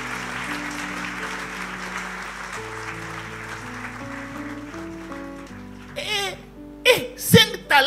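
A church congregation at a worship service claps in steady applause under music and voices, then cheers and shouts briefly toward the end.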